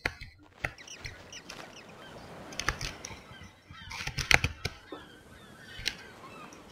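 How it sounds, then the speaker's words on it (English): Seagull cries in the Minecraft mod Tekkit, several short squawking calls scattered over a faint game ambience, with a louder cluster near the middle. "And they just had to add seagull sounds."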